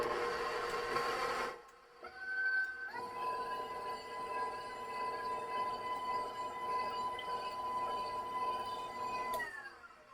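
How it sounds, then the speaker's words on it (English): An electric mixer whirs at medium-low speed whipping egg whites for angel food cake, a steady close motor hum with faint rattling that starts after a brief pause and winds down at the end. "I'm going to start the mixer on about medium-low speed"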